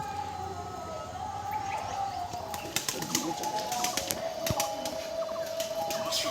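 Native deshi pigeons in a loft give soft, low cooing calls with occasional wing flaps. A steady faint tone runs beneath them, and the whole scene is quiet and slightly distant.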